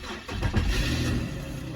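An Infiniti Q50 AWD engine cranks and catches, a short starter whir followed by the engine firing up and settling into a steady close idle.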